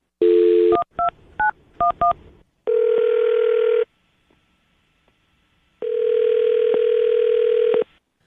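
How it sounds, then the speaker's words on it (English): A telephone dial tone followed by a quick series of touch-tone keypad beeps as a number is dialed, then longer steady tones separated by a pause, loud and alone with no talking. "I'm going to dial his phone number right now"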